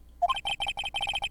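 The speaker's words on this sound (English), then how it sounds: "I heard a phone ring just now. One of those newfangled ringtones." A cell phone ringtone from the Phoenix Wright: Ace Attorney game: a short, bright electronic melody of rapid beeping notes in a quick repeating pattern, clear and alone.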